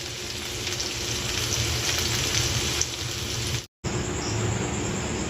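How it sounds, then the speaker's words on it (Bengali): Okra and potatoes frying in a pan give a steady, close hiss of oil sizzling throughout, with one brief gap near the end before the sizzle resumes. "আমি এখানে ঢেঁড়স আলুটা ভেজে নিচ্ছি"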